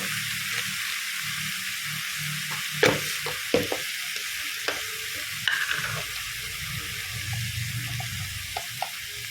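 A spoon stirs white gourd with mung dal in a pan, giving soft scraping clicks and a few sharper knocks over a steady low sizzle of frying.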